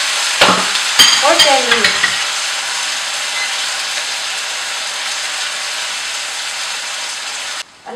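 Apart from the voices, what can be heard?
sautéing potato and onion in a pan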